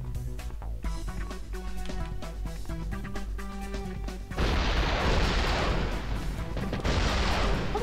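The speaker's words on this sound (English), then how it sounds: "this gun fires pretty quickly" A fast-firing gun in a video game lets off a dense, unbroken roar of shots that bursts in over tonal game music and keeps going loud to the end.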